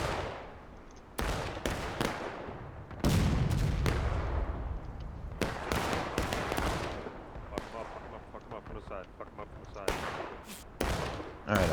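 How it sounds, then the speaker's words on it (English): Musket volleys in the Civil War game The Blue and The Grey, a series of loud, sharp reports in uneven bursts, some overlapping into rolling fusillades, with a voice talking over the shooting. "They got the first shots off."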